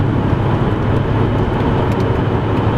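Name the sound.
car engine accelerating faster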